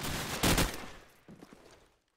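Desert Eagle and AK gunfire from a Call of Duty 4 match: a loud burst of shots up front, then a quieter scatter of trailing shots that fades into near silence.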